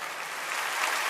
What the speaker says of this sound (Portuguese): Vamos aplaudir Jesus agora.